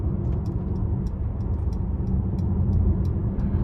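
Steady low rumble of road and tire noise inside a 2023 Mercedes-AMG GLC 43 Coupe with a 3.0 twin-turbo engine on 21-inch wheels, a constant muted drone with faint higher ticks, no talking.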